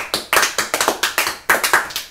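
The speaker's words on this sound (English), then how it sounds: "Come on, clap your hands for Jesus Christ." Congregation clapping hands at a Sunday gospel church service, a run of sharp, fairly loud claps in an uneven but steady rhythm, close and without talk.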